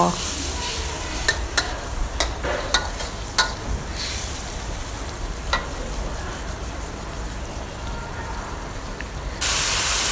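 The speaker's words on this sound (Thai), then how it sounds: "รอเดือดอีกสักพักก็ใส่กะเพราลงไปค่ะ" Pork with chilli and a little added water bubbling in a pan for a holy basil stir-fry, a steady close sizzle and hiss with a run of sharp spoon clicks early on and a louder hiss rising near the end.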